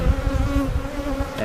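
Honeybees buzz at beehives on a farm, a steady close droning hum of many insects throughout the short moment.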